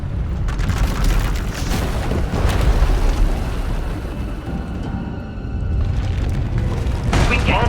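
A deep rumbling explosion as Vaylin's power erupts in Star Wars: The Old Republic, loud booming waves that swell, ease off briefly, then surge again near the end.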